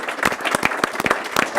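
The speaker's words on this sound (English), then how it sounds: "Let's give our athletes one more round of applause." Applause for athletes at a school board meeting, a short burst of crisp, distinct claps from a modest group in a room, irregular and close.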